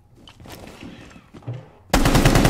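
Gunfire in Rainbow Six Siege, a sudden loud burst of rapid automatic shots erupting near the end after quieter scattered game sounds.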